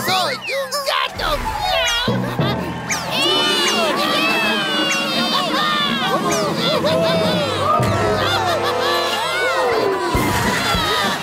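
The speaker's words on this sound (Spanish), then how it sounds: "Ahora, preparen sus aplausos para Terry el Magnífico." Cartoon crowd cheering for a performing cat in an animated show, loud and continuous with shouting voices, excited children's yells and rising whoops over a busy bed of noise.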